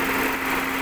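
A new electric fan motor in an air conditioner, spinning in reverse, gives a steady, close whirring drone with a low hum running underneath for the whole short moment.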